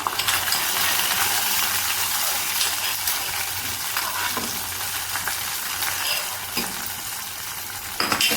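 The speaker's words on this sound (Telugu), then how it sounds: "స్టవ్ పోపుని ఇప్పుడు ఇందులో వేసేసుకుంటున్నాను." A hot tempering of cumin, dried red chillies and curry leaves is poured into Andhra-style buttermilk curry and stirred, a strong continuous sizzle with scattered spoon scrapes and clinks, fading slightly toward the end, no talking.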